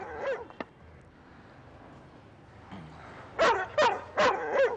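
A dog barks in a short burst of sharp, close barks near the end, preceded by a soft yip and quieter stretch, loud and clear with no talk over it.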